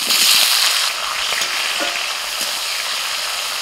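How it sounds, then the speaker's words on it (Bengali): Bay leaf, cumin, slit green chillies and chopped tomato fry in oil with a dense, close sizzle. It bursts loud at first, then settles into a steadier hiss with scattered crackles as the ingredients are stirred. "তেলের মধ্যে ফোড়নে দিচ্ছি একটা তেজপাতা, গোটা জিরে, এবার দিচ্ছি 5-6টা চেরা কাঁচা লঙ্কা, টমেটো কুচি"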